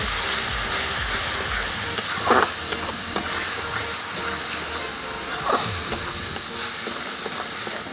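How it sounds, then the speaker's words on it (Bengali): Cabbage paste for a chana dal and cabbage dhoka fries loudly in hot oil, a dense, continuous sizzle broken by occasional scrapes and clinks of a spoon stirring against the pan. "এবার তেলটা দেখুন ভালোই হয়ে গেছে এইবার এর মধ্যে আমি এই বাঁধাকপি বাটাটাকে ঢেলে দিচ্ছি এবার এটাকে ভালো করে একটু কষে নেব"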